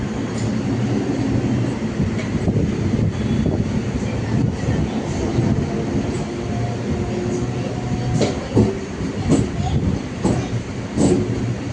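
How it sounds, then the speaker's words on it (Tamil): Chennai MRTS suburban train near St Thomas Mount rolling over track switches toward platform 1, a low steady rumble with scattered clicks and knocks from the wheels, no talk. "நம்ம ட்ரெயின் மாறுது தெரியுதா? பிளாட்ஃபார்ம் 1க்கு தான் போகுது."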